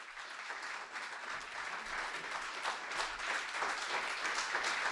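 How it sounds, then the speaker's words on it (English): An audience at a local district debate in Loudoun gives a sustained round of applause, with dense, steady clapping heard from a moderate distance and no talk over it. "A big round of applause."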